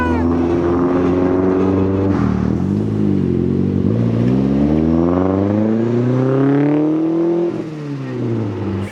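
A small car fitted with motorcycle wheels drives along a street at about 20 mph, its engine droning loud and close, pitch climbing and dipping with throttle through shifts, with people talking over it.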